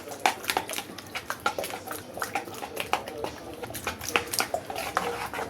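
A spoon beating eggs mixed with tuna fish in a bowl, making a steady run of quick, close clicking taps against the bowl's sides with no voice over it.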